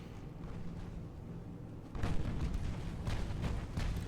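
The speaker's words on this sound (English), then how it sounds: "you can see all of our battleships have opened up on the lead ship" Battleship main guns firing in Ultimate Admiral: Dreadnoughts, a quiet rumble that bursts into a heavy, sustained barrage of booming salvos, several deep blasts overlapping one after another.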